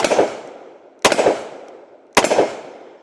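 Three sharp gunshots from a Smith & Wesson 640 revolver fired outdoors at a 15-yard range, spaced about a second apart, each a loud crack with a ringing decay.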